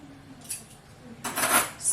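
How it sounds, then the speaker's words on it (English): Metal forks and spoons clatter in a kitchen drawer in short bright bursts, a brief rattle early on followed by a louder, longer jingle near the end, close by with no talk. "And here's some cutlery,"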